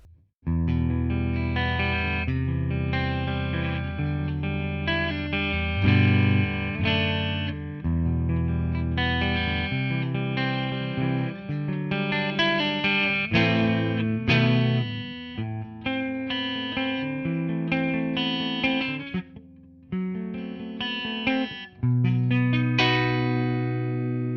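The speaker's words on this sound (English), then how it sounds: "we're gonna start with the clean tones and the neck pickup" A Harley Benton Fusion T EMG HT electric guitar on its clean tone and neck pickup plays chords and melodic runs continuously, warm and rounded with a touch of chorus-like shimmer and light echo.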